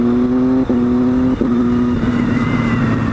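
Triumph Street Triple motorcycle engine revving hard, with quick-shifter upshifts heard as brief dips between sustained loud pulls, the note stepping down after each shift and carrying steadily throughout with no talk.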